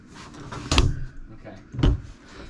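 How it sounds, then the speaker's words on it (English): Two distinct thuds about a second apart, like a Leisure Travel Van Wonder door being pushed shut and latching, with faint voices murmuring in the background. "Close the door real quick."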